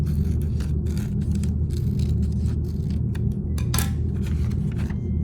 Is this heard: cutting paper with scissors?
yes